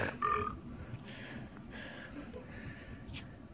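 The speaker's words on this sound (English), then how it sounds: "Hipster Jesus just has to burp." A single loud, close burp opens the clip outdoors on a Southern Utah trip near Bryce Canyon, followed by quieter rumbling background noise.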